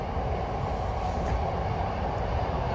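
Moscow metro train running, heard from inside the carriage as a loud, steady rumbling roar with faint rail rattle, no talk.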